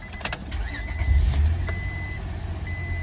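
An engine cranks and fires at a dealer-only auto auction, with a low rumble building and settling into a steady idle, while high reversing-style beeps chirp intermittently over the yard noise.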